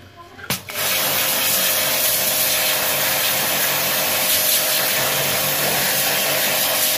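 A handheld high-pressure jet cleaner sprays water steadily into corners, a loud continuous hiss that starts abruptly after a short click and holds at an even level throughout.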